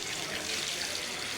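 A drinking-water tap runs in a steady, close hissing gush, unbroken for a brief moment with no voices.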